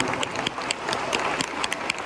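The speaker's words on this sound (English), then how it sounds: "Give them another round of applause." An audience at a college event claps in a lively round of applause, dense overlapping hand claps with a few sharper individual claps standing out, steady and fairly close throughout.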